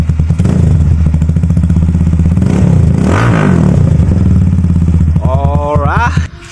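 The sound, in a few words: Motorstar Explorer 250 revving, Yoshimura Alpha full carbon exhaust, no silencer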